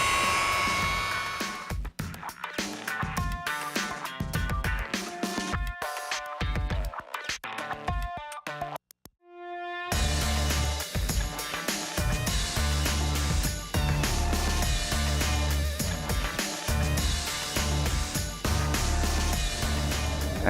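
An electric power polisher works compound across a plastic car headlight during restoration, a loud high whirring drone broken by brief stops and restarts, then running continuously.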